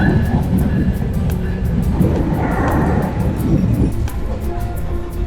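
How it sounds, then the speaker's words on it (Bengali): A train pulls into a railway station platform at Ishwardi with a steady, loud low rumble and wheel clatter that carries throughout, joined by occasional clanks and sharp squeaks. "বলতে না বলতে একটা ট্রেন চলে আসছে"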